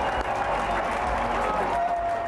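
A sold-out crowd at a baseball ballpark cheering and applauding, a dense, steady roar of clapping and voices filling the whole moment.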